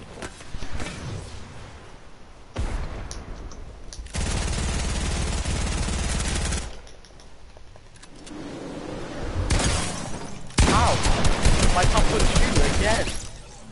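Shotgun blasts from a pump weapon in the Fortnite video game, several loud broadband bursts spread across the stretch with game noise between them and voices talking over parts of it.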